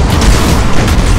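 An enemy defense platform blows up in the Battlefleet Gothic Armada 2 video game, a loud, dense, rumbling explosion that fills the whole moment.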